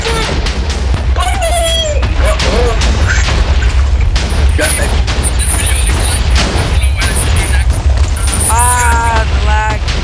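Repeated loud booming explosions and crashes in a game soundscape, dense and continuous, with excited voices talking over them.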